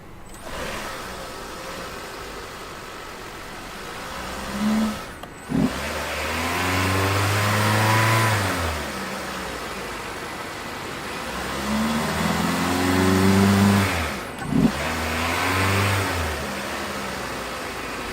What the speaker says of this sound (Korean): 시동을 걸어 보겠습니다.